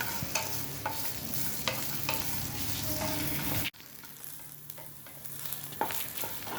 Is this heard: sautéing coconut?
yes